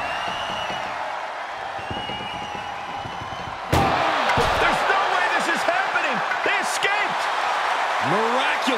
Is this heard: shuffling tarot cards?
no